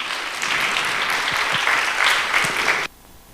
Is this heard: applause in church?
yes